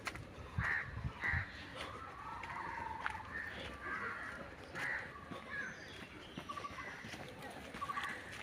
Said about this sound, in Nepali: हेर्नुहोस् चराको आवाज